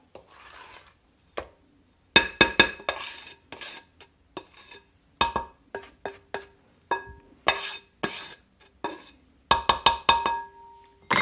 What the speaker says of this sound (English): Now I'm going to scrape everything from the sides and bring them into center.